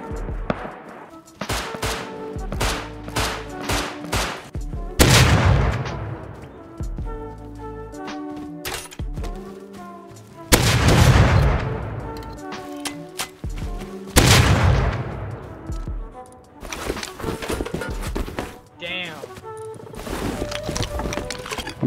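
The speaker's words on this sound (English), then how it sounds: "I then followed the sounds of some gunshots." Gunfire in the survival game Rust: repeated sharp shots and rapid bursts crackle throughout, with several heavy, loud blasts standing out over a busy, echoing firefight and no talking.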